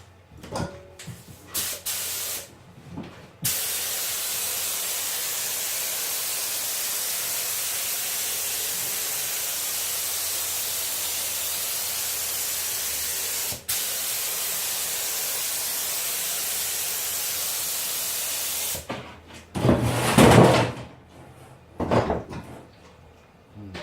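Activator sprayed from a pressurised can onto a carbon sheet: two long, steady hissing bursts fill most of the span, bracketed by clicks, handling knocks and rustling at start and end.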